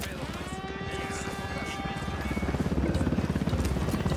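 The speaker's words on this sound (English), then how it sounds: "Chopper, hit the dirt." A helicopter approaching in the video game Ghost Recon, its steady rotor thump growing louder and closer over a few seconds, with voices in the background.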